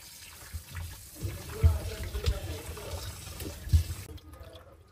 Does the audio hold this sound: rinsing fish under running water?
yes